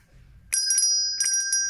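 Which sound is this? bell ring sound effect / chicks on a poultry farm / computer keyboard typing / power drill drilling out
bell ring sound effect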